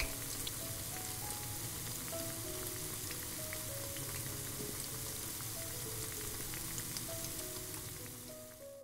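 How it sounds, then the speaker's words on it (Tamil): Cauliflower pakora deep-frying in hot oil, a steady dense sizzle and crackle that stays loud and even throughout, fading slightly at the end, with no talk. "இப்போ காலிஃப்ளவர் பக்கோராக்காக நான் பொரிச்சிட்ருக்குறேங்க."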